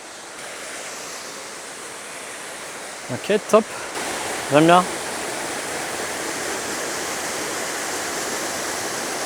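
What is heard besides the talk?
small waterfall on a mountain stream, Rhodope Mountains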